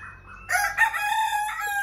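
A rooster crows nearby, a single drawn-out call with a rising start, over faint background noise; a long-tailed Nagadori or Phoenix chicken.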